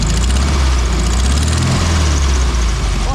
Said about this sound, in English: I'm going to leave this Beetle running for a little bit to let the engine